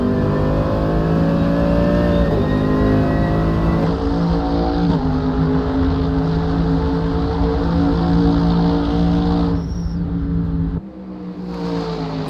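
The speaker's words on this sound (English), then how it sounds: "let's go on board, in fact, and listen to this car roar" A DTM race car engine roars loudly and continuously during a British Grand Prix round, its pitch rising and falling with shifts, then dipping briefly near the end before surging again.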